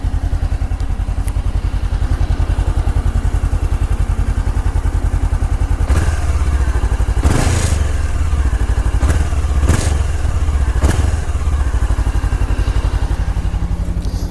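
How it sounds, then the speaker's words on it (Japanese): Honda CB500X parallel-twin motorcycle idles close to its muffler, a steady loud low-pitched putter broken by a few sharp thumps and clatters midway, with no revving. "ごくね普通の、2気筒のエンジンって感じがします。"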